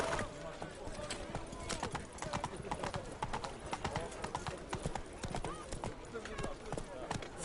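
Roach the horse gallops in The Witcher 3, her hooves clip-clopping in a quick, continuous rhythm, fairly close and clear throughout.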